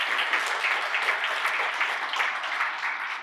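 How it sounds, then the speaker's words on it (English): Audience at an awards dinner applauding, a dense, steady burst of many hands clapping that fills the room at even loudness throughout, with no voices rising above it. "Brian, give him a nice round of applause."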